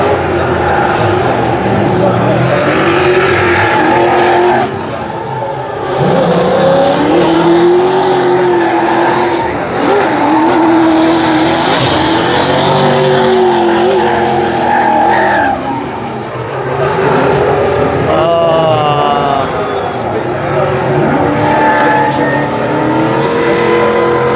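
The old FD drift car runs at Kern County Raceway during a first qualifying round, its engine roaring loud and steady with long squealing tire slides throughout, constant and close.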